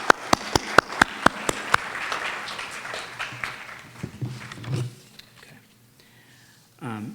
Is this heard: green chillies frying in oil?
no